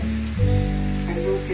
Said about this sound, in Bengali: এবার আমি কাঁচা লঙ্কা দুটো ফেলে